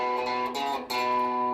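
An electric guitar plays a short blues pattern, its sustained notes ringing with a brief dip before the phrase picks back up, heard alone and close.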